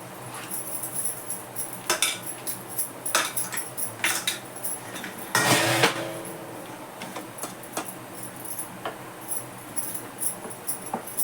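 A spoon stirs custard in a pot, repeated light metallic clinks and scrapes in an uneven rhythm, close and fairly quiet, with one longer louder scrape midway.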